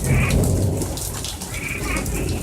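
Heavy rain pours steadily through a Central Florida thunderstorm, a dense close hiss with low rumbling thunder rolling underneath and no voices.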